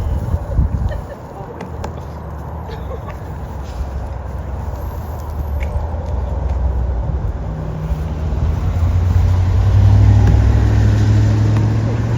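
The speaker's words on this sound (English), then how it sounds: "There's a truck coming right now." A truck approaches on a road outdoors, its low engine rumble building steadily from a distance and growing loud and close near the end, with people talking over it at the start.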